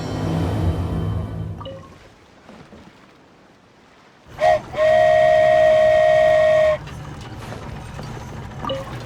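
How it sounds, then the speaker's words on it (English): A toy train in Genshin Impact sounds a loud, sustained steam whistle lasting about two seconds, with rumbling motion and chugging before and after. "So this is what it feels like to ride a toy train."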